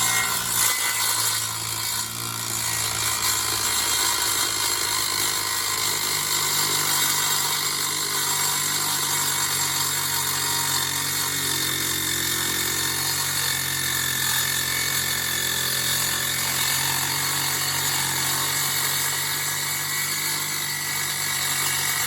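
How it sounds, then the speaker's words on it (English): Ryobi brushless 7-inch saw fitted with a Milwaukee 48-tooth metal-cutting blade slicing through 1/8 inch aluminum, a loud, steady high-pitched whine with a dense metallic screech that runs unbroken for the whole stretch. "I cut this 1/8 inch aluminum with the Milwaukee 42 saw."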